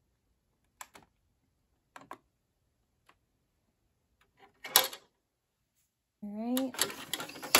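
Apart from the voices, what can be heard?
Epson EcoTank printer being turned off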